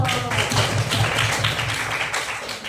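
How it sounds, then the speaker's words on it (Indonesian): A classroom group claps hands together during a chemistry lesson on corrosion, a brief burst of dense, overlapping claps filling the whole span at steady loudness. "Kita tepuk tangan dulu."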